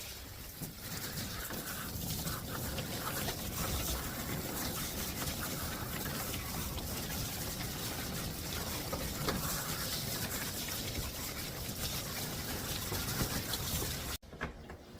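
Water running steadily into a bathtub while it warms up before a poodle mix's bath, a constant rushing stream heard close for about fourteen seconds before it cuts off abruptly.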